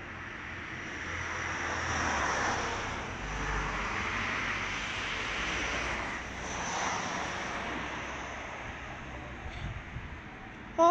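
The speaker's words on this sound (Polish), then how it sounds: "Ale mgła jest, bo tam samolot leci i go nie widać prawie." Propeller airplane flying overhead in fog, a steady distant engine drone that swells and fades gently for several seconds in a quiet outdoor setting.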